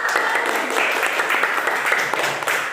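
Classroom of students applauding together at a teacher's prompt, a steady, dense wash of small-hand clapping that holds at an even level throughout, with faint voices underneath.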